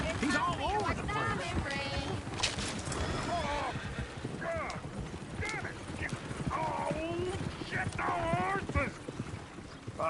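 Horse hooves clip-clop in Red Dead Redemption 2, a steady rhythmic trot running throughout beneath talking voices, game dialogue and singing.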